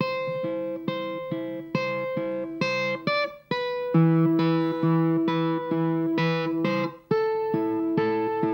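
An electric guitar slowly plays a melody from a Philipp Renner worship song, single notes picked one at a time with a slightly distorted, sustained tone, close and alone with no talking.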